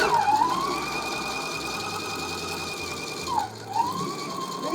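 A sewing machine back stitches at the start of a seam, with a steady mechanical whir and a rising-and-falling tone that changes pitch as it reverses direction, close and alone.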